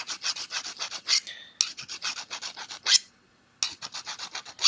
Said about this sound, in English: you can see where the file is removing material where it's shiny